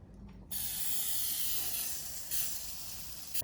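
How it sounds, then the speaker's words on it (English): A continuous hissing spray, close and steady for several seconds, with a short extra burst near the end. "After I'm done, I always spray the pan."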